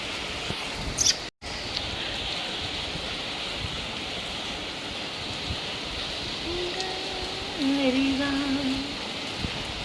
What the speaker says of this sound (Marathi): पाऊस आहे मम्मा